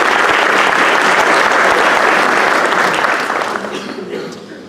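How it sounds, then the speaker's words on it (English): Loud audience applause for council members at a 2018 State of the Community chamber event, a thick roar of clapping that holds strong for several seconds, then tapers off and thins out toward the end. "Give them a round of applause"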